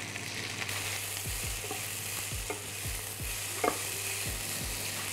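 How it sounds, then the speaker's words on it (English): Onions and whole spices fry in olive oil in a pan for slow-cooked lamb shanks, giving a constant sizzle broken by repeated scraping strokes of a utensil against the pan, close by and with no voices. "So our onions and spices are just kind of frying away"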